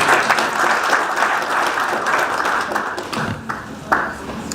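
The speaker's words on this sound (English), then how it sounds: "You can clap for me again." An indoor audience claps steadily and loudly at a peace event, a dense continuous round of applause that tapers slightly near the end.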